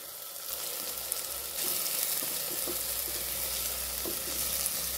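Spice masala with homemade red chili powder sizzling and being stirred in hot oil over low heat, a steady close frying hiss with occasional scraping of the spoon in the pan.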